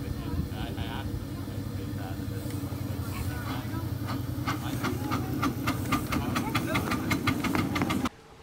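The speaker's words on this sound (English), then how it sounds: "I was given the opportunity to do something that I had never done before, operate a steam locomotive." A small, pint-sized steam locomotive running, a steady low mechanical rumble with a rhythmic chuffing beat that grows more distinct and regular toward the end before cutting off abruptly.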